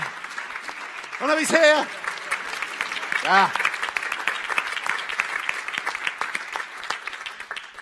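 Applause from the audience at a science communication competition final, a dense, continuous patter of clapping with a presenter's voice cutting in briefly twice.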